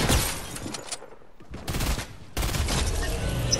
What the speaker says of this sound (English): my shotgun shots are so bad.